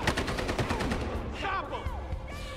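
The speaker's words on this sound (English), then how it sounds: "Dude, everybody's shooting at everybody." Rapid gunfire rattles through a Battlefield Hardline shootout, a dense run of close repeated shots in quick rhythm, then more scattered bursts with whistling effects and a voice talking underneath.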